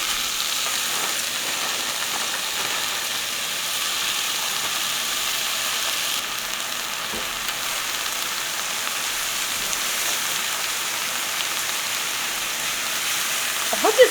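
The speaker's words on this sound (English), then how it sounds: "So as soon as I give it a little bit of a flip, we'll add those in." Onions frying in a small pan with garlic for a one-pot dish, a steady rain-like sizzle running unbroken, moderately loud and close, without speech.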